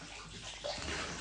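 Tap water running into a bathtub, a steady low rushing hiss that swells slightly partway through the short stretch, with no voices over it.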